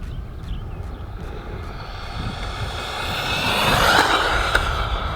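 Losi Baja Rey 2.0 Ford Raptor RC truck driven at full throttle for a top-speed run, its electric motor giving a steady, rising whine with broadband rush that swells louder toward the end.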